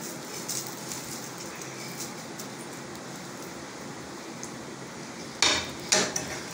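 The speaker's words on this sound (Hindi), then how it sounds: "इसे हम ऑयल में फ्राई करेंगे कि खुशबू आने लगे" Cumin, nigella, fennel and whole red chillies fry in oil with a soft, steady crackle, interrupted near the end by a few sharp clinks of a utensil against the pan.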